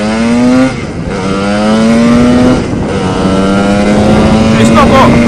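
A Lambretta scooter with a Simonini 260 engine and a box pipe exhaust drones loud and close, its revs climbing in a few smooth pulls.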